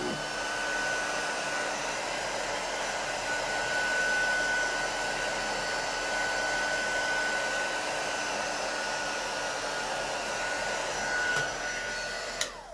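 A heat tool blows steadily and loudly for several seconds without a break, melting embossing powder on a handmade Christmas card stenciled with Crafter's Workshop stencils. Nobody speaks.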